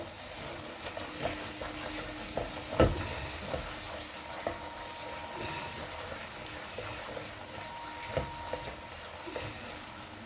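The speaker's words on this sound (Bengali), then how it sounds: "মশলাটা প্রায় ভাজা হয়ে এসছে, তেল ছেড়ে দিয়েছে।" Spice paste sizzling and crackling in oil, with a spoon scraping and stirring the pan in occasional bursts, as for a cauliflower dish.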